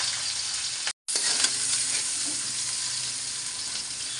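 Green chilies and cumin seeds fry in hot oil after okra, giving a steady, close broadband sizzle that cuts out for a split second, then resumes with faint stirring scrapes.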